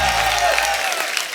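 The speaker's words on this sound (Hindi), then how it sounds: "तो मैं आप सबकी जोरदार तालियों के बीच में इनवाइट करना चाहूंगा पद्मिनी जी के जीजा जी को" A studio audience on The Kapil Sharma Show comedy program bursts into loud, dense applause to welcome a guest, the clapping fading slightly toward the end.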